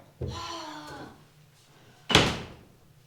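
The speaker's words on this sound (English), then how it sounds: "Close the door." A door swings and then shuts with a sharp, loud thud after an earlier creaking movement, heard alone indoors before a party.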